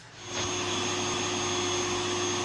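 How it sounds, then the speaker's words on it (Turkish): An Arzum electric vacuum cleaner starts up and runs, its motor rising quickly into a loud, steady whine and hum that holds evenly, with no talk. "süpürgemiz normal çalışmaya başladı"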